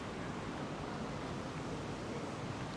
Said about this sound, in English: Hopefully the microphones work, eliminating the wind noise.